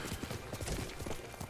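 A horse's hooves clip-clop in steady, close rhythm while riding in the video game Ghost of Tsushima, carrying on throughout with no talk over them.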